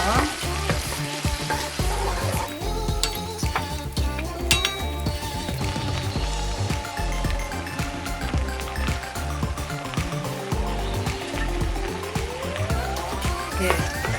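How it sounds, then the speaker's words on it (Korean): Soaked rice stir-fries in a pan over high heat for abalone porridge, a loud, continuous sizzle with frequent scraping and clinking stirs against the pan, close and busy, with no talking. "지금부터 쌀을 볶아줄 겁니다. 센 불에서"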